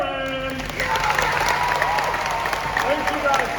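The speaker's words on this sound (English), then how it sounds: "I wanted to bring you out here for that applause." Audience at an Indiana Jones stunt show applauds loudly and steadily, a dense wash of clapping with some cheering throughout.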